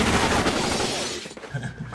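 A burst of gunfire from a film scene playing on a screen, with dense cracking shots and booms that fill the first second, then thin out into scattered rumbles and clatter.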